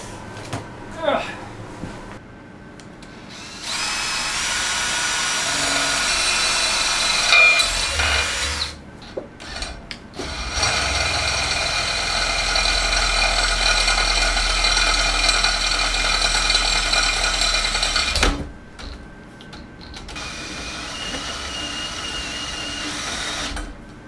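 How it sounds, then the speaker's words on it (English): A power drill bores a hole into a Stihl BT131 post hole auger attachment, running loud and steady in two long bursts separated by a short pause, with quieter bench noise before and after. "We're going to drill a hole."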